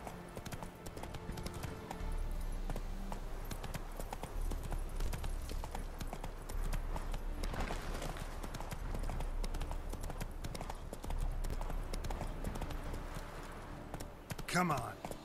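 The horse Roach gallops in The Witcher 3 with a steady, fast clip-clop of hooves that stays prominent and fairly loud throughout, mixed with game ambience and someone talking over it.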